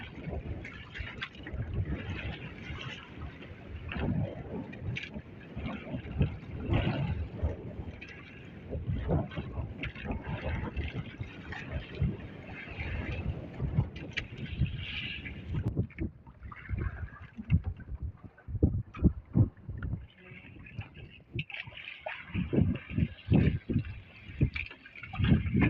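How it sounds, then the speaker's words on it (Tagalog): Steady wind rushing over the microphone with waves sloshing and slapping against a small fishing boat at sea, the wind strengthening as the sun sets, continuous and fairly loud throughout. "lalong lumalakas yung hangin, saka alon"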